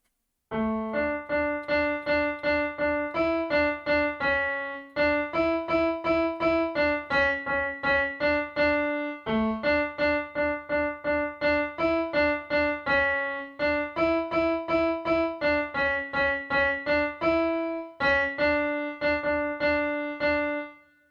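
Keyboard playing the Ganesh Aarti Ek Dantay Vakra-tundaya melody from bar 1 to 9, with steady, evenly paced sustained notes over a repeating bass, played alone without talk.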